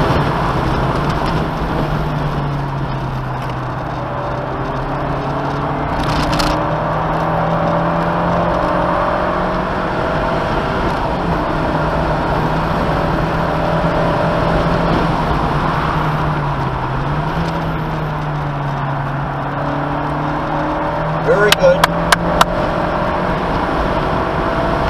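Car engine holding a steady drone during a driving lesson, rising and falling slightly under throttle, with continuous road and wind noise and a brief rattle near the end.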